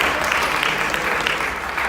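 A church congregation applauding during a Spanish-language sermon, a steady dense wash of clapping that holds at an even level throughout, with no voices standing out above it.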